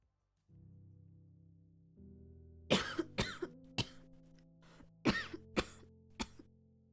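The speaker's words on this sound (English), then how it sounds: "Your coughing fits were slowly growing erratic since the day at the mall" A person coughs in a harsh, uneven fit of about seven sharp, close bursts, with the first few bunched together and the rest spaced out, over a low steady hum, while hunched over a sink early in the morning.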